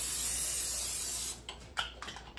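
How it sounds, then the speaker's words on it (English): Cooking spray hisses steadily from a can into a pan for a healthy stir fry, a close, continuous spray lasting just over a second before cutting off, followed by a few light clicks and rustles. "I like to use spray instead of butter or oil because of the fat content"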